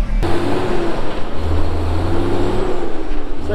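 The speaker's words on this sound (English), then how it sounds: "So there goes Nathan in our chopper truck, TX220." A chopper truck, the TX220, pulls away on a farm, its engine rumbling low and rising as it accelerates, with a brief air-brake hiss near the start.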